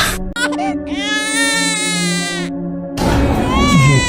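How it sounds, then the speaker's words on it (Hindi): A haunted doll gives out a shrill, wailing baby cry that rises and sustains for a couple of seconds, breaks off, then resumes louder over a low background hum. "ये इतनी रात को बच्चे के रोने की आवाज कहाँ से आ रही है?"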